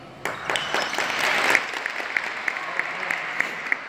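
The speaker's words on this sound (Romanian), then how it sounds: "Gata, aplauze!" An audience at a sports match bursts into applause, loud dense clapping that swells then thins into scattered individual claps toward the end.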